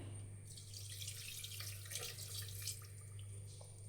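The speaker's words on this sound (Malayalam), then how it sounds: "ആവശ്യത്തിനുള്ള വെള്ളം ഒഴിച്ചു കൊടുക്കാം." Faint, steady stream of water running and splashing into a pot of beef curry, with a low hum underneath and no speech.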